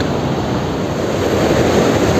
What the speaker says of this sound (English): The water seems to be spraying out.